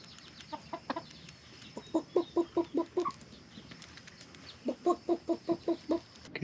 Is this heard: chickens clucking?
yes